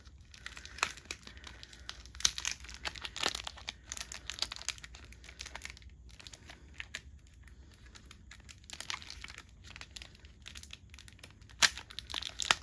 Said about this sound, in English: Guess I'll go ahead and open this pack next.